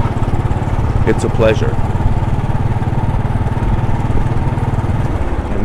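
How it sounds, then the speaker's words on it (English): A motorcycle engine runs steadily while riding through U Street in Washington, DC, a loud, continuous low throb close to the microphone with a faint voice briefly over it. "The bike is running perfectly."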